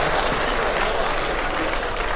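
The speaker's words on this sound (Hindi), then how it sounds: "आप लोग जोरदार तालियां बजाइए" Loud, continuous audience applause at a comedy show, a dense uniform wash of many hands clapping at once with no gaps over the short stretch.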